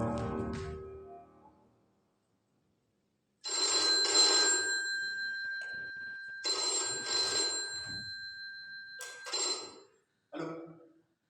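A telephone rings during a theatre performance in Niort, sounding in several loud electronic bursts separated by short silences, after a brief low murmur at the start.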